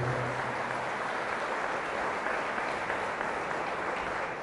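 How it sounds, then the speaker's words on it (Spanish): A church audience applauds steadily during a sermon, with dense, sustained clapping from start to finish and no pause. "Fuertes aplausos a Jesús de Nazaret por su amor y su misericordia"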